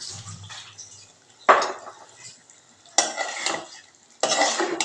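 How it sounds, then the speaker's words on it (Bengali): Boiled, chopped beef liver being stirred and sautéed in a pan: a few distinct bursts of scraping and sizzling separated by quieter gaps, close by, with no voices. "ভালো করে নাড়াচাড়া করে ভালো করে কষিয়ে নিতে হবে"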